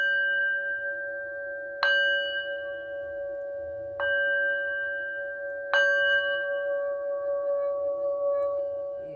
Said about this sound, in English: call in Spirit proper by ringing the gong